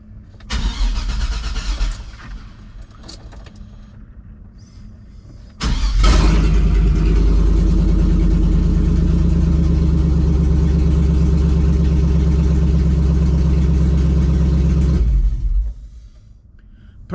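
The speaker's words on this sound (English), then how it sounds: "see if I got enough battery left in this thing for it to fire off" 2006 6.0 LS V8 cranks briefly, then fires and settles into a loud, steady idle for about nine seconds before shutting off.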